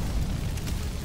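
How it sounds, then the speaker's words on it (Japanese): A car explodes in the open-world shooter Far Cry 4, a loud sustained low-end boom and rumble filling the whole moment with no voices over it. "おお、何、車が爆発したのか"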